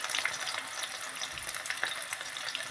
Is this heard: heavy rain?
no